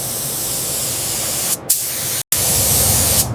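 A spray gun hisses loudly and steadily as it lays clear coat on a 1967 Camaro Z28, broken by two brief trigger releases, the second a sharp full cutoff.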